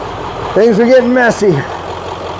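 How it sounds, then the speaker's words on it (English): A 7.3 diesel engine idling in the background: a steady low rumble running throughout, with a person speaking briefly over it. "This thing's been sitting out here for about 25 minutes, just sitting there idling, purring like a kitten."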